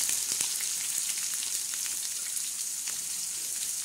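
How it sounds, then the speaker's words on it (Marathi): Onion tossed onto a hot tawa griddle with cumin seeds sizzles steadily, a dense crackling hiss with scattered sharp pops, fairly loud and with no talking. "त्याच्यानंतर टाकणार आहोत कांदा"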